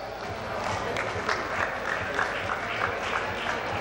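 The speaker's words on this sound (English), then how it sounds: "Let's give them a big round of applause." An audience applauds at a cricket awards ceremony with a dense, steady wash of clapping across the whole moment, fairly close and even in level.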